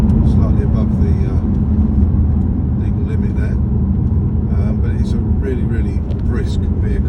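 A hybrid car in power mode drives at speed with a loud, constant engine and road rumble while someone talks over it.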